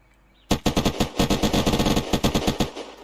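Automatic gunfire from the video game Unturned rattles off in a fast burst of about twenty close, loud shots lasting around two and a half seconds, with no talk.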